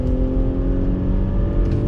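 Deep, smooth engine drone of a 2020 Audi SQ5 accelerating on throttle on a test track, a steady close-up rumble that holds through a short burst, with no talk.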